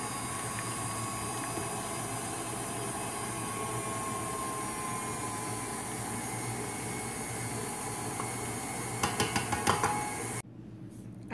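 Two sticks of butter beaten with sugar for sugar cookie dough, the electric mixer giving a loud, steady whirring drone with a brief burst of clattering taps near the end before it cuts off.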